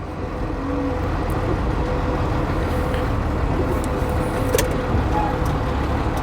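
A heavy Ford Cargo 0811 truck engine rumbles steadily as the vehicle pulls away after the parking brake is released, with a brief hiss of air and light road noise, no talking.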